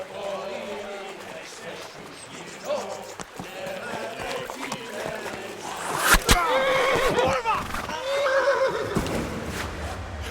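Horses whinny and snort while hooves clatter and thud, mixed with shouting voices and busy action noises, growing louder toward the end, in the video game Kingdom Come: Deliverance.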